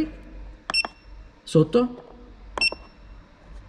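A Kingbolen BM580 car battery tester gives a few short electronic beeps and bleeps while someone speaks Italian over them.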